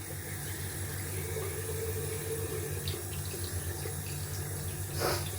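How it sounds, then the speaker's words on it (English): Water runs steadily from a tap in a constant hiss, with a low hum beneath and a brief splash near the end. "let's add some cold water to the face."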